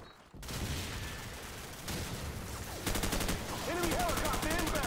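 M4 carbine fire in a shooter video game, repeated quick bursts of shots rising in density toward the end, with game sounds and a voice line mixed in.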